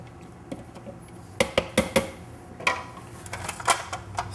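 A spatula scrapes down the bowl of a food processor while no-cook ravioli filling is being made. Irregular plastic clicks and taps come close by, some of them sharp and clustered, with no talking.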